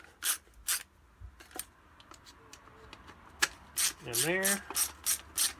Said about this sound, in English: I just got to snug the bolts down